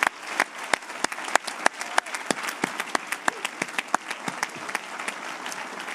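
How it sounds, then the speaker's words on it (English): Audience applause at a school commencement ceremony, a steady wash of many hands clapping with sharp individual claps standing out, fairly loud and continuous throughout with no speech over it. "Let's give them a round of applause."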